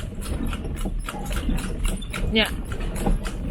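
Horse hooves clip-clop in an irregular beat on a city street during a horse ride in Cebu City, with people talking over the steps.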